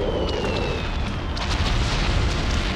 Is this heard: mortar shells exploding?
yes